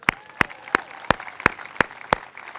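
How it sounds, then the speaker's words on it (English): Seven sharp, evenly spaced claps ring out in a steady rhythm at a Torrance centennial parade and time capsule dedication, crisp and close with quiet gaps between them. "So let's give you guys a round of applause."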